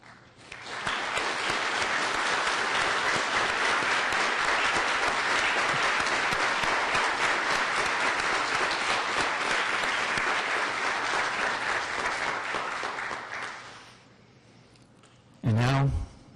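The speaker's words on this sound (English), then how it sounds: "would ask that everyone join me in a round of applause" Sustained applause from a large audience at an environmental awards presentation during an Ottawa city committee meeting, steady and full for about thirteen seconds before fading out, followed by a short burst of noise.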